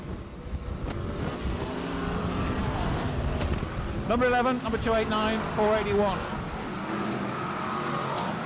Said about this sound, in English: Those are the cars that lead off in this Consolation event.